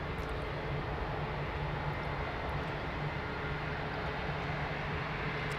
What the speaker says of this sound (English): Long takeoff roll as well.